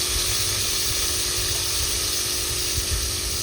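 Onions sauté in a pan for chicken afritada, giving a steady, close hiss of sizzling oil that holds evenly throughout with no pauses and no talk.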